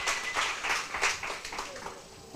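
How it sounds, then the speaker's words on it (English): An audience at a business workshop claps in a brief burst of applause, a quick run of sharp, close handclaps that thins out toward the end. "Let's give a round of applause."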